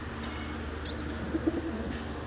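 Soft, low cooing from pigeon chicks, a few short murmured coos close by over a faint steady background hum.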